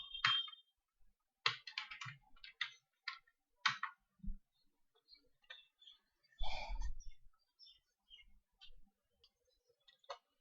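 Quiet, irregular keystrokes on a computer keyboard as a search is typed, coming in short bursts of clicks separated by pauses.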